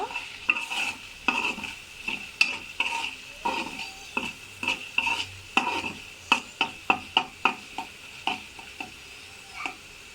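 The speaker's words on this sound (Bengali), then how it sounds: "এখন একটু নেড়ে দিব।" A spoon stirs spiced masala in a pan over a medium flame for an ilish curry with potato and aubergine, giving a steady run of sharp scraping knocks against the pan over a soft sizzle of oil, with no talking.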